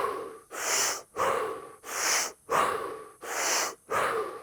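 Deep rhythmic breathing in the Wim Hof method, close and alone: about six full cycles of forceful inhales and relaxed exhales, each a loud airy rush with a short pause between.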